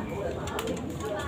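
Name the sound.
pigeon cooing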